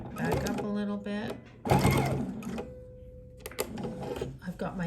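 A sewing machine stitching quilt binding at the bottom center of a quilt, with short whirring runs of stitching and pauses between them, close by, alongside a voice talking.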